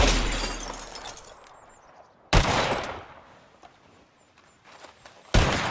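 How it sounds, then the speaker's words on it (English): Gunshots hit glass bottles in Red Dead Redemption 2, two sharp, loud cracks with shattering glass about three seconds apart, each trailing off into faint tinkling debris. "you shot a bottle"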